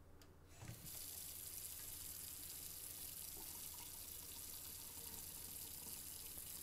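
Water pours steadily from a tap as a wound is rinsed, a constant close hiss that starts abruptly after a brief quiet moment and runs on without pause or talking.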